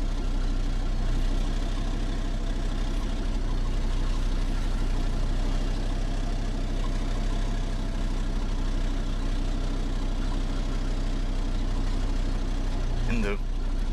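A wood gasifier engine idles in a steady, continuous low rumble with a constant mechanical drone, loud and close, unchanging throughout.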